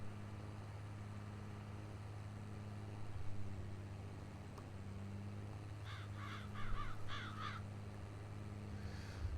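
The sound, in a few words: crows cawing near tractors on a farm field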